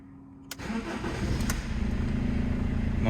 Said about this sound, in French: Donc là on va laisser tourner un petit peu la voiture au ralenti